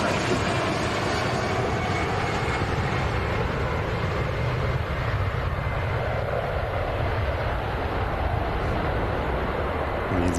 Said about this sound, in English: EasyJet on the way out to Grenoble.